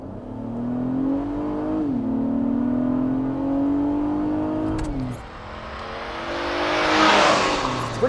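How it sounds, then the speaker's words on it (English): A 2022 Acura MDX A Spec three-row SUV floored from a standstill without launch control. The close, loud engine note climbs steadily, dips briefly at two gear shifts and surges again, with no talking. "I'm just gonna floor normal like a normal person would."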